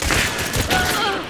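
A shorty Mosin rifle fires in Hunt: Showdown, giving a loud, close gunshot with a sharp crack and a rolling boom that decays over about a second, with faint voice in the background.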